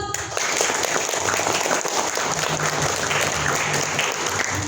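A school arts festival audience applauds steadily, dense clapping filling the space at an even, sustained level throughout.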